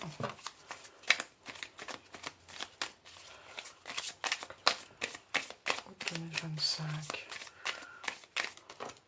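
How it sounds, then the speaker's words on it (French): Tarot cards being shuffled give rapid, papery riffling and flicking in quick bursts, close up, with someone speaking over them throughout. "il nous faut 3 cartes de tarot"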